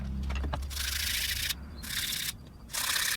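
Hand sanding with 220-grit paper wrapped on a hardwood block, rubbing over sealed wood in three or four long, close strokes separated by short pauses, after a few light taps.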